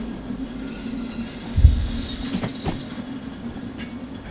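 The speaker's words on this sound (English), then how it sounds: "so the locomotives are coasting." Locomotives coasting on rails with power cut in the train game Derail Valley, a steady low rumble of rolling wheels with a brief thump of track noise midway, close and unaccompanied by talk.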